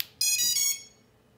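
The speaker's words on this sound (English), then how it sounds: "You get the initialization beeps, but not the second set of beeps" A quick series of high electronic beeps from a drone's ESCs initializing rises in pitch, close and clear, then fades into quiet; the second set of beeps never comes on this faulty drone that won't power on.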